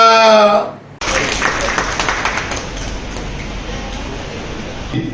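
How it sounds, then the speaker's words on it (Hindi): Audience applause at the close of a memorial function honoring doctors, nurses and sanitation workers, a dense steady clatter of many hands starting abruptly after a brief voice and continuing at even loudness until the end. "तालियां।"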